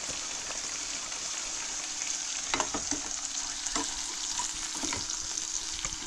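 Steady crackling sizzle of grasshoppers frying in hot oil, with occasional sharper pops and spatters throughout; no one speaks.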